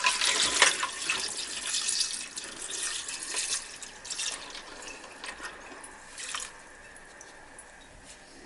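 Fresh hydrochloric acid pours into a container in a steady, splashy liquid rush that swells and fades over several seconds before trailing off into a quieter trickle.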